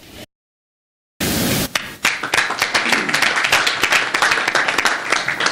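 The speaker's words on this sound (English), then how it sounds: "I'm the leader of the clapping" Audience applause at a conference conclusion breaks in after a short silence, a burst of many hands that thins into scattered, distinct claps.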